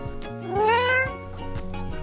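A cat gives one clear, rising and falling meow in the middle, loud and close, over a steady low background hum with a few soft knocks.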